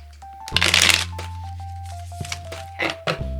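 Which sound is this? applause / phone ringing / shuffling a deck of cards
shuffling a deck of cards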